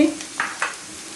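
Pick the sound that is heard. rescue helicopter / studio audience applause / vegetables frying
vegetables frying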